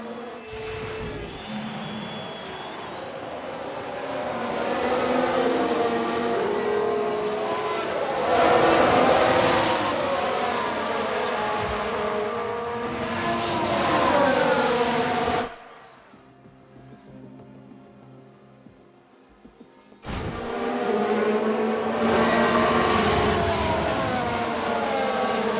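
Loud Formula 1 car engines roar in F1 Manager 22 with harsh, crunching bursts of a multi-car crash, then drop to a low hum for a few seconds before surging again.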